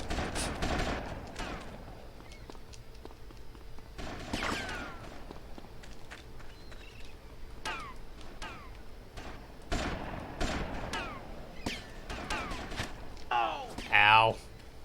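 Bursts of scattered gunfire in Grand Theft Auto: Vice City strike the player, giving sharp intermittent cracks and volleys spread across the clip amid game effects, with a loud burst near the end and some speech.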